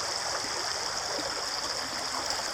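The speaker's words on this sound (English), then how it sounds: "Check out this creek." A creek runs over bedrock just downhill from a house, a steady close rushing and trickling that fills the whole stretch with no voices.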